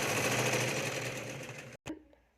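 Sewing machine stitching a puffed sleeve, a close, fast steady whir and needle chatter that slows slightly, cuts off abruptly, then gives a brief final burst before going quiet.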